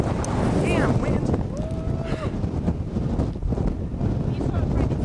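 Strong wind roars into the microphone at a Kansas tornado chase, a loud, continuous buffeting rush with a few brief tonal whines riding on top.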